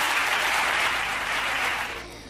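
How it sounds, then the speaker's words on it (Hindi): An audience at a Hindi kavi sammelan poetry event bursts into loud, dense applause that holds steady, then begins to fade at the end. "जोरदार तालियों से आप स्वागत करें"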